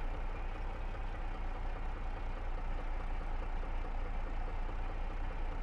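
A vintage 1950s–70s tractor engine in Farming Simulator 22 idles steadily with a constant low rumble and no change in pitch or rhythm.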